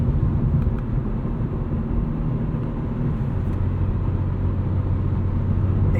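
A 2025 BMW M3 Competition xDrive engine gives a steady, loud low rumble from inside the car as it drives, with no talking over it.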